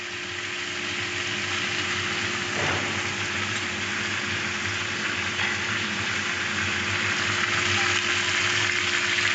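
Spices frying in a pan while cooking, giving a steady, loud, continuous sizzle with a low background hum and no talking.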